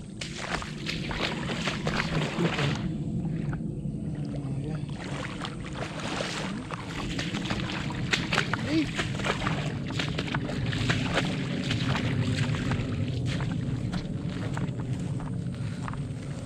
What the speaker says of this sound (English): Try to pass this second creek crossing.